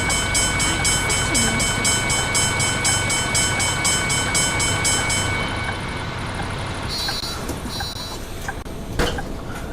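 A train rumbles through a level crossing in the Bus Simulator video game, with loud steady rolling noise and a repeating crossing bell. The bell stops partway and leaves the rumble fading under light background sounds.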